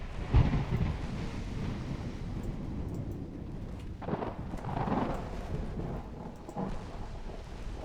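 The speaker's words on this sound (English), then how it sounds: "No, not a fog. A storm." A thunderstorm rumbles in the naval game Ultimate Admiral Dreadnoughts, with a loud thunder crack at the start giving way to steady rain and wind roar and a few softer rolling booms.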